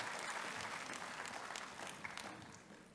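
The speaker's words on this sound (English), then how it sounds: "put your hands together once again in welcoming all the dignitaries" An audience at a health conference applauds to welcome dignitaries, fairly quiet, dense clapping with a few sharper claps that gradually fades toward the end.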